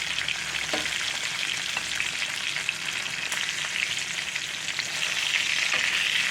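A New York strip steak sizzles steadily in a cast iron skillet as it is butter-basted with garlic, with a dense, even frying hiss and a few faint spoon clicks and scrapes, close and loud with no one talking.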